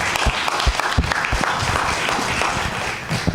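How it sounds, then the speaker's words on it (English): An audience at a county panel forum on ticks claps steadily, a loud, even burst of applause from a roomful of people with no talk over it. "Just give them a hand of applause."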